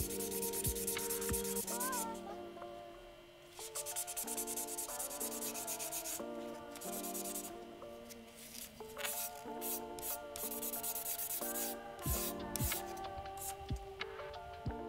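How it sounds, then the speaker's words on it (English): A rag rubs adhesive residue off a metal plate inside an Acer Nitro 5 laptop with isopropyl alcohol, giving a steady close scrubbing and squeaking that keeps going with small knocks and scrapes. "we can clean the excess residue with some isopropyl alcohol"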